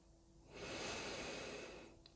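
A single long inhalation through the nose as part of a sophrology breathing exercise, a close, soft airy rush lasting about a second and a half between quiet pauses.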